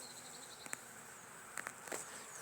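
Honey bees buzzing faintly around an open colony, a soft steady hum with a few brief, sharper clicks and taps from handling the hive.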